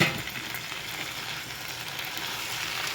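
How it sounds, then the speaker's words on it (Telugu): Chopped tomatoes go into okra curry frying in a pan, giving a steady, close sizzle with soft crackling throughout and no voices. "ఇప్పుడు టమాటా చిన్నగా తరుక్కున్న టమాటా వేసుకోవాలి"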